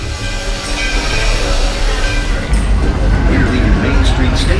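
The Magic Kingdom railroad train pulls out of Main Street Station, a rumbling, rattling run of wheels and cars with noisy crowd sound around it.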